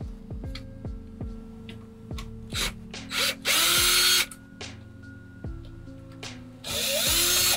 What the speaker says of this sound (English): Generally don't recommend doing this with